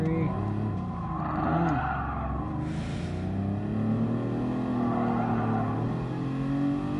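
Ferrari engine in a PS4 VR racing game, a steady droning rev with shifting harmonic tones that rise and fall, held continuously at close range with no talk over it.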